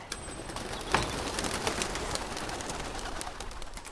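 Pigeons coo inside a school pigeon shed by a playing field, a soft continuous murmur of calls mixed with rustling and a steady noisy background, with no talking.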